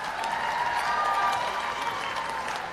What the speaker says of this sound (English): Let's give a round of applause for all of our global communication graduates.